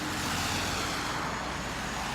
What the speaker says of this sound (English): sorry about the cars.